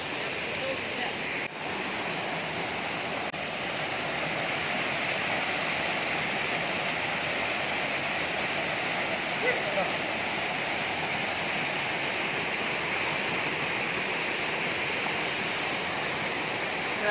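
Tinubdan Falls waterfall in Catmon, Cebu, rushing as a steady, close roar of broadband water noise that never lets up, with faint voices beneath it.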